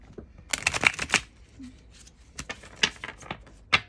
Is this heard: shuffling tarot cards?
yes